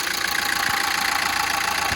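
A VW Transporter T5 van engine idling after an EGR pipe repair, a steady, close, even mechanical hum and rattle that continues without a break and with no voices.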